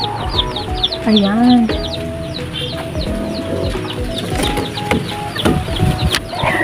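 Texas gamefowl chickens clucking and calling inside a coop, several birds close by with repeated short clucks and a longer call, under someone talking.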